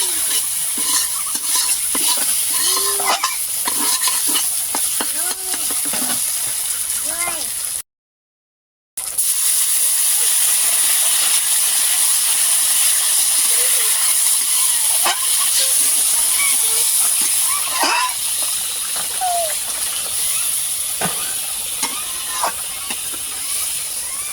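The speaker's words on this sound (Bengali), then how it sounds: "তো বন্ধুরা দেখো তরকারিটা কিন্তু আমার ফুটে গিয়েছে।" A mustard curry with poppy seed and cashew paste, cooked for sorshe pabda fish, boils in a pan, hissing and bubbling steadily up close with soft pops and one brief break.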